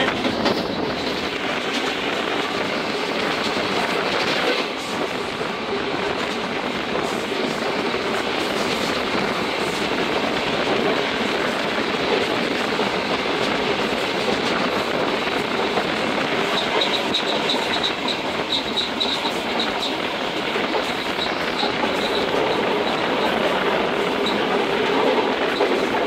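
Karachi Express train running fast on the rails, with steady loud rumbling and rattling of the carriages throughout, a faint clickety-clack beneath and a brief high squeal near the end.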